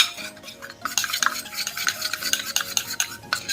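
Flour and maida being mixed into a mathri dough, a steady run of quick scraping and stirring strokes in a bowl, close and continuous with no voices.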